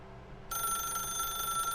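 Telephone ringing inside The Stanley Parable video game, a steady electronic ring that starts abruptly after a short quiet gap and continues alone, fairly loud and close.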